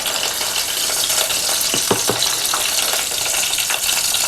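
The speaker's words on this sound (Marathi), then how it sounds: "तेल तापलेलं आहे, राई घालूया." Mustard seeds hit hot oil for a Kokum kadhi tempering, giving a loud, continuous close sizzle with a few sharp crackles and pops partway through, no speech.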